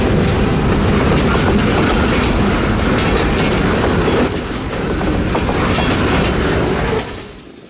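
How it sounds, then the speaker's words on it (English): Two EMD CF7 diesel locomotives haul a 19-car freight train on a Florida short line railroad near citrus groves, the engines whining and growling loudly up close over steady clattering wheels, with brief high wheel squeals before the sound drops away. "the whining and growling of the 2 EMDs totally sealed the deal"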